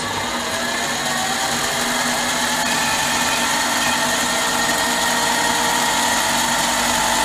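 A Harbor Freight mini lathe turns at about 700 RPM while a hand-fed cut takes fifty thousandths off metal, giving a steady, loud machining whine and hum with no break, alone throughout.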